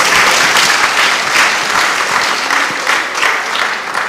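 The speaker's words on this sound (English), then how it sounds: "Let's give them another round of applause" Dense, steady applause from a graduation audience at a secondary school ceremony fills the whole stretch, loud and close, a continuous wash of many hands clapping with no talk over it.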